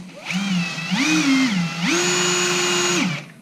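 A polishing wheel on a mandrel buffs a silver piece, giving a loud motor whine that rises in pitch in short spurts and then holds one steady tone for over a second.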